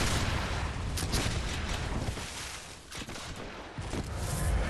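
Bloodborne enemies wielding guns open fire, a dense chaotic stream of shots and booming impacts layered over game noise, fairly loud and continuous with no talking.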